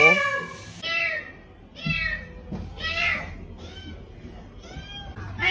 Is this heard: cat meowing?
yes